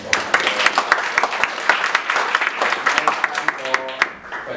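Audience applause closing a panel discussion on Jakarta flood control and urban building, a lively burst of individual sharp claps over murmuring voices, thinning out near the end.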